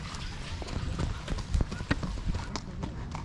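Horse hooves clip-clop in a steady rhythm during a ride, the close, fairly faint clops falling along a quiet path.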